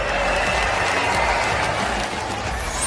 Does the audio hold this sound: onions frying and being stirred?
no